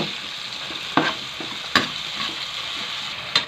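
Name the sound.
sautéing ground meat in a pan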